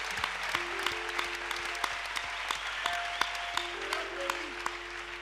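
A church congregation at a Thursday evening service applauds in a steady, moderately distant patter of clapping. Sustained tones from an organ or keyboard ring underneath.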